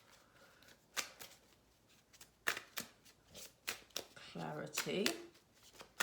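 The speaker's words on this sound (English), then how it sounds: "I'm just going to pull some Romance Angels cards" Romance Angels oracle cards being shuffled by hand, a series of quick riffling bursts and soft slaps close by, with someone speaking quietly over them.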